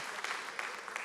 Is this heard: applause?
yes